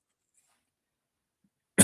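One sudden, short cough comes right at the end after nearly two seconds of silence, close and fairly loud.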